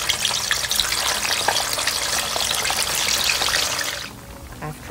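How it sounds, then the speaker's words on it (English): Little squares of polenta drop into hot olive oil and fry with a loud, dense crackling sizzle that holds steady, then thins out abruptly near the end. "The oil is hot, and we're going to begin to put these little squares of polenta in."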